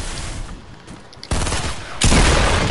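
Dense, rapid gunfire in a team shooter video game, loud and continuous, growing heavier in two abrupt surges as more weapons join in, with no talk over it.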